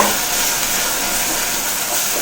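Tomatoes sautéing in a pan for capsicum chutney give off a loud, steady, broadband hiss that holds at one level throughout, with no voices.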